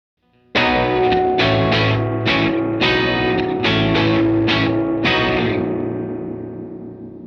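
An electric guitar strummed through a reverb pedal with the balance control set about halfway, a series of bright chords ringing out and washing together, then a long reverberant tail fading out at the end.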